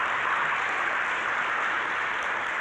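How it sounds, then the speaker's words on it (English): Steady applause from an audience at a language creators' evening event, a dense even wash of clapping sustained throughout at moderate loudness with no voices over it. "Don't applaud me."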